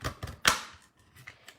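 A handheld paper punch snaps through a sheet of white scrap paper, several sharp clicks and one loud crisp punch close by, followed by faint rustling of the paper.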